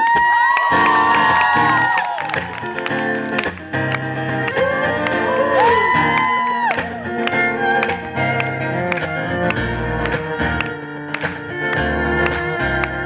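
A live concert audience at a show at Tiehua Village cheers loudly, with whoops and shouted voices rising and falling over several seconds and scattered claps.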